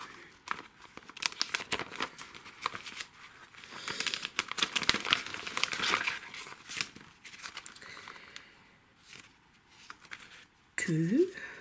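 A mailed package containing a theatre-ticket style card is torn open and its paper crinkles and rustles close by in irregular bursts, with someone speaking softly in between.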